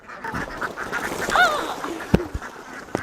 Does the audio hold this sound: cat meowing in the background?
no